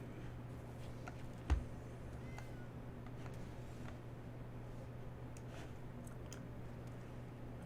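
A cat card played in the MTG Arena digital card game gives off one short, fairly soft meow-like game cue near the start, over a steady low electronic hum.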